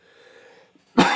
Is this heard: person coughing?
yes